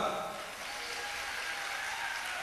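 Crowd at a 2009 political speech by a politician claps together on cue, a dense steady patter of applause throughout, fairly faint and distant as if in a large hall.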